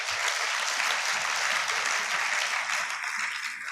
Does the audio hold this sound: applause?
yes